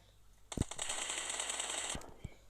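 Automatic gunfire in the mobile battle royale game PUBG Mobile: one sustained burst of roughly a second and a half, loud and close, framed by a few sharp single shots before and after.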